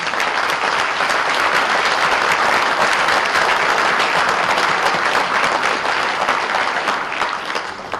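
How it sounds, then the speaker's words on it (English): At a special town meeting, the audience gives first-time visitors a round of applause: a dense, steady wash of clapping from a crowd, loud and continuous throughout. "please stand up so we can give you a round of applause"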